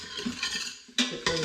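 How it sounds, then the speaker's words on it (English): Onions sautéing in olive oil inside an Instant Pot, stirred with a utensil that scrapes and clinks against the metal insert in several close bursts, with a faint sizzle between strokes. "Get those all stirred up."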